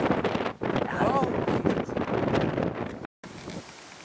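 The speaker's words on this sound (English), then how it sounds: "And now it's very windy." Strong wind buffets the microphone in a continuous roar with gusty surges, briefly cutting out near the end; a voice speaks faintly underneath.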